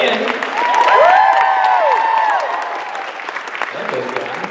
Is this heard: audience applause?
yes